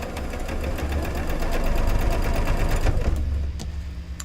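A sewing machine chain-pieces quilt block pieces for a box quilt, running in a steady, close, rhythmic whir for about three seconds before stopping, with faint handling sounds after.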